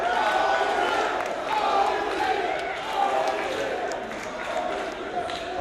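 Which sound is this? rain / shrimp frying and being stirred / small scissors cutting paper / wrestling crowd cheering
wrestling crowd cheering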